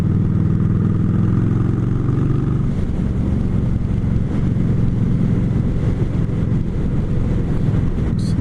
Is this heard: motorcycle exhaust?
yes